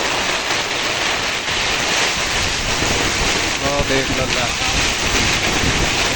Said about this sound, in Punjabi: ਤੂਫਾਨ ਆ ਗਿਆ ਬਹੁਤ ਭਾਰਾ